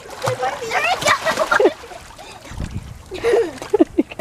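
Splashing through shallow water with repeated sloshes and splatters, mixed with excited voices talking and calling over the water sounds.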